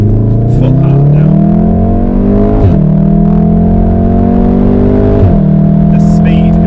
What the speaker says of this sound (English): this is like we're coming out of this corner now in second gear. Foot hard now.